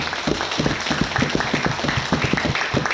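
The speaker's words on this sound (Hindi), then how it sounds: "सबसे पहले मिस्टर अविनाश सर के लिए मैं एक बार चाहता हूं जोरदार तालियां।" Audience applause for guest speaker Mr. Avinash at a motivational speaking event: steady clapping with loose rhythmic bursts over a dense, even wash of sound, fairly close and sustained throughout.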